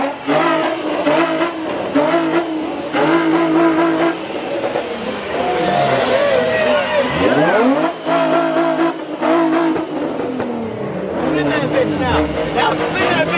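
A car spins its tires at a nighttime street car meet in Minneapolis, engine revving hard with screeching tire squeal rising and falling over a crowd's chatter and shouting voices close by.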